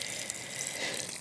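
Water pours steadily onto a garden bed before carrot seeds are sown, a continuous close hiss and splash with no break and no talk.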